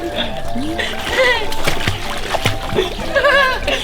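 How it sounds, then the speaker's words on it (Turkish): Water splashes and sloshes as someone swims in a pool built from a trampoline, with close, choppy bursts under lively voices talking and laughing. "Maras hayatında ilk defa yüzüyor"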